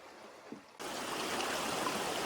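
Cold stream water flowing at an Appalachian Trail campsite, a steady close rush that starts abruptly after a quieter moment and then keeps on evenly.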